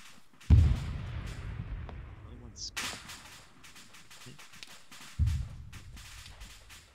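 Two heavy tank cannon blasts from an Arma 3 battle, each a deep booming thump with a rumbling tail, several seconds apart, with scattered distant gunfire and faint voices in between.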